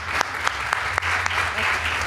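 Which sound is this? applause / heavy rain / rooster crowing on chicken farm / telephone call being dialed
applause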